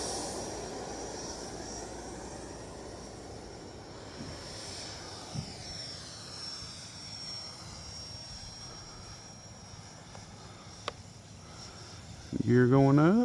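A Freewing F16 90mm EDF RC jet, an 8S scale electric ducted fan model, flies overhead with a steady distant whooshing whine that rises and fades as it passes, ending with a brief burst of louder noise.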